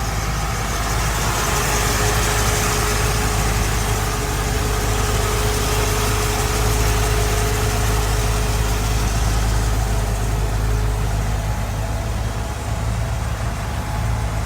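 A 1955 Chevrolet Bel Air idles steadily and close by with a low, even rumble, no speech over it.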